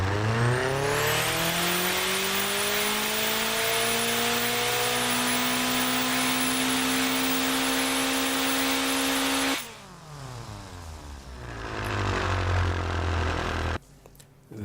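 A tuned Honda Civic-style car engine in the video game Automation holds a high rev for several seconds, a loud steady whine with strong harmonics, then drops off sharply, idles briefly and revs up again before cutting out.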